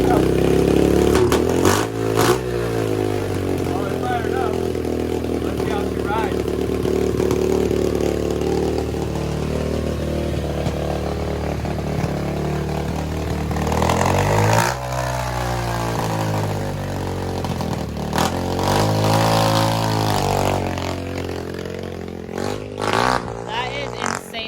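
An SSR 125 pit bike engine fitted with a Nibbi PWK carburetor runs loud and close, holding a steady idle, then revving up and dropping back several times, with people talking over it.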